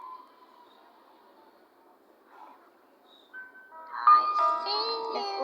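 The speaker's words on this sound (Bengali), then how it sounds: "এই যে ট্রেনে চলে আসছে" A train arrives in the Granny horror video game, rising from faint rumbling to a loud, bright chiming, bell-like tone with overlapping harmonic notes near the end.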